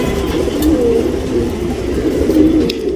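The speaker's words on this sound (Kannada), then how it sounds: "ಇದು ಟಾಪ್ ಕ್ಲಾಸು ಸಬ್ಜಾಲ್ ಗಂಡು ಹಕ್ಕಿ." A male Sabjal tournament racing pigeon coos up close, repeated low throaty calls in a steady rhythm over a faint background.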